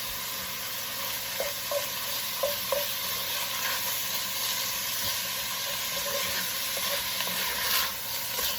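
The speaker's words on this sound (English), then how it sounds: "it's gonna make some sizzling noises" Italian sausage frying in a hot soup pot gives a steady broadband sizzle, with a few brief stirring clinks and scrapes rising over the constant hiss, close and alone with no talking.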